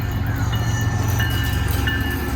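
A CSX manifest freight train of mixed cars rolls past close by, a steady loud rumble of wheels and cars with a faint high squeal running through it, no voices.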